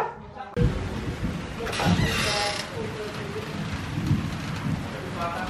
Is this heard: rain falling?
yes